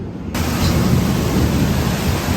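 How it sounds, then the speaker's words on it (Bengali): A heavy rainstorm produces a dense, loud roar of broadband noise that swells in abruptly and continues steadily, close and unbroken with no talking. "তুমুল বৃষ্টি হচ্ছে"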